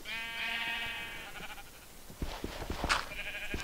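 Flock of sheep bleating in the Minecraft video game, overlapping nasal bleats at moderate volume, followed by clustered clicks and footstep-like taps.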